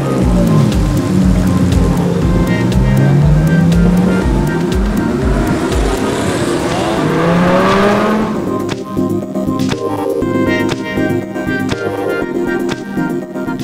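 A Ferrari sports car driven on the roads of Singapore, with its engine rising and falling in pitch through several loud revs, then giving way to a rushing, rain-like hiss of road and wind noise.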